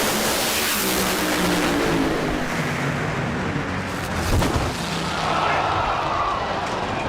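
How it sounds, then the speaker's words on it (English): An NHRA drag racing car exploding and striking the wall: a loud, roaring, broadband blast of engine and impact noise with a burst near the middle, heard under a commentator's talk. "his car has exploded and he is in the wall"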